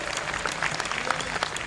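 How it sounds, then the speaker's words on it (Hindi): Crowd clapping at a Hindi kavi sammelan poetry recital, a steady burst of applause throughout with faint murmurs of the audience mixed in. "तालियां मुझे भरपूर चाहिए अच्छी बात पर।"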